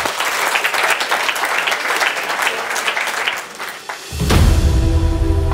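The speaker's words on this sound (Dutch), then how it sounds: "Hilbert Bredemeijer, geef een applaus alsjeblieft" Studio audience applause greets a guest on a Dutch evening talk show, a loud, dense wash of clapping that fades briefly before swelling again with a burst of music.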